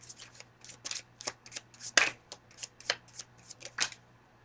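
Tarot cards shuffled by hand at close range, a quick run of a dozen or so crisp papery snaps and riffles in an uneven rhythm over a faint steady hum, with no voices.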